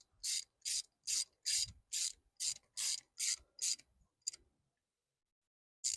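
Rhythmic scraping and ratcheting from tightening the trim relay wire connection on an Evinrude E-Tec outboard, about nine even, close strokes followed by a couple of faint clicks and then quiet.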